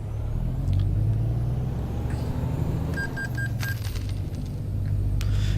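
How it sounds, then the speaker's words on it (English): Coin-like chimes of a fuel payment in American Truck Simulator, a short run of four bright evenly spaced tones sounding over a steady truck engine rumble, with no talking. "Just the sound of the money coming out of my account for the fuel."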